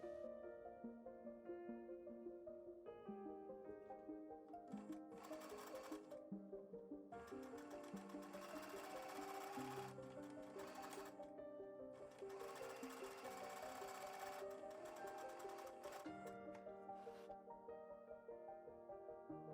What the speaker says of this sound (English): Take it to your sewing machine and stitch about a 1/4 inch from that fabric edge